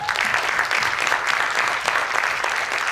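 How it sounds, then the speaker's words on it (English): A presentation audience bursts into steady, dense applause for Malaysia, many hands clapping loudly and evenly throughout, with no speech on top. "a round of applause for Malaysia!"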